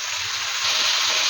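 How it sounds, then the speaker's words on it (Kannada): Carrots, beans and peas fry in a pan with a steady, close, bright sizzle and hiss, briefly and without a break. "ಕ್ಯಾರೆಟು, ಬೀನ್ಸು, ಬಟಾಣಿ ಎಲ್ಲ ಸ್ವಲ್ಪ ಬೇಯೋದಕ್ಕೆ ಟೈಮ್ ಹಿಡಿಯುತ್ತಲ್ವ, ಹಾಗಾಗಿ ಈಗಲೇ ಸೇರಿಸ್ಕೊಂಡು ಫ್ರೈ ಮಾಡ್ಕೊಬೇಕಾಗುತ್ತೆ"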